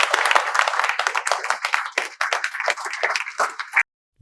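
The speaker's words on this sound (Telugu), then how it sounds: "మీ అందరికీ మేము చప్పట్లతో వెల్కమ్ చెప్తున్నాం." An audience clapping in welcome at a spoken English institute class, a dense burst of hands lasting a few seconds before stopping abruptly.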